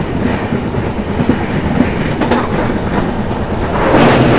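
The Himsagar Express rolls across the Parapur rail bridge by Parapur lake, its wheels clattering in a loud, continuous rhythmic rumble that swells toward the end.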